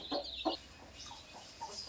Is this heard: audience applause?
no